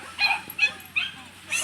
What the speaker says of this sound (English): look at these dogs here